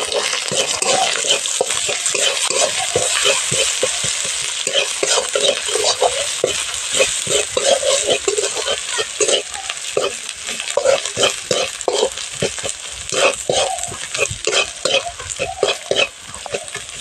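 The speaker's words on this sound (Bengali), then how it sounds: "মশলাটা একটু কষে নিব ভালো করে।" Turmeric, chili powder, salt and ground ginger-garlic-cumin paste sizzle loudly in hot oil, stirred with steady scraping strokes throughout, close and continuous without talk.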